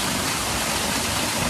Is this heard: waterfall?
yes